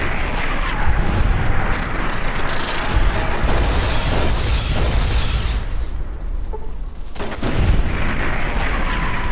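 Tesla cannon fired in Fallout: New Vegas, with heavy electrical blasts and explosions rolling into a dense, loud, continuous roar and a brief dip before the booming swells again; no talking.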